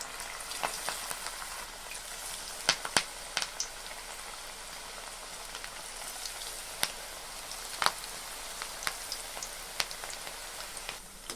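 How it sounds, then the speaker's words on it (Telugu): Malabar spinach pakodas deep-frying in hot oil, a steady dense crackling sizzle with scattered sharper pops and spits, close and continuous throughout. "ఇప్పుడు మనం కలిపి పెట్టుకున్న బచ్చలాకుని ఆ విధంగా పకోడాలుగా వేసుకోవాలి"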